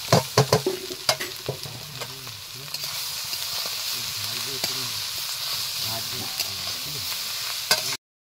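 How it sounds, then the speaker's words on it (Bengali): Prawns dropped into a pan of fried onion and chili sizzle steadily and loudly, opening with a few sharp clatters of a spatula against the pan, then settling into continuous close frying with occasional stirring knocks. "এখন আমি চিংড়ি মাছগুলো দিয়ে দিচ্ছি।"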